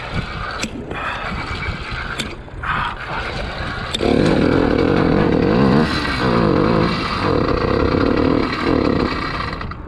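A small motorized bicycle engine runs unevenly at first, then settles into a louder, steady buzzing drone with rhythmic pulsing as throttle is applied, close by with no talk.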